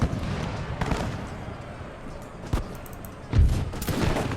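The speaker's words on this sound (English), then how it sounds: "So I really need everybody to focus and fire on these guys." Musket fire in an American Revolution video game mod, with scattered muffled shots and a couple of louder reports standing out over a busy, rumbling battle background.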